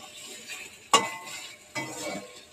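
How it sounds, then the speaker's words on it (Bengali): Taro leaves (kochu shak) being stirred in a cooking pan, with two sharp scraping strokes of a utensil against the pan over a faint sizzle, close and fairly loud. "এটাকে এবার নাড়তে হবে।"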